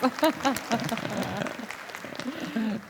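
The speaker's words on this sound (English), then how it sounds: "please, a round of applause" An audience applauds at the close of an architecture talk, a steady wash of clapping running beneath a voice speaking over it.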